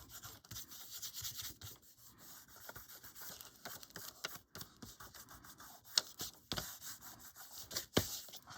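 Material is rubbed by hand on the covered corners of a lapbook, giving soft, close scratchy strokes that repeat unevenly with a few sharper rubs and no talking.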